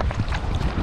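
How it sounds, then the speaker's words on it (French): Strong wind buffets the microphone while kayak fishing for sea bass and cuttlefish at sea, a constant loud rushing roar with gusty low-frequency thumps and no pause. "il y a beaucoup de vent"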